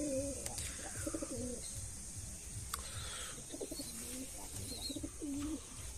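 Pigeons cooing softly in repeated throaty bursts, several calls spaced through the clip over a faint background hum.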